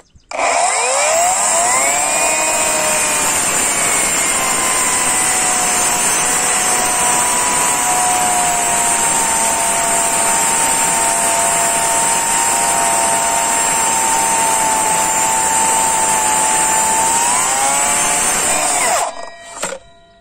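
A loud Parkside Performance PAKSP 20 cordless miter saw whines steadily through a long cut in a chipboard block for nearly twenty seconds, its motor pitch sagging slightly under load before spinning down.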